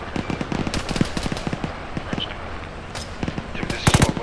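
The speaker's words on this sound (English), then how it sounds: "We're taking a lot of fire here." Rapid automatic gunfire in a military video game during defensive operations, dense bursts of shots crackling throughout with a heavier close volley near the end, mixed with faint background voices.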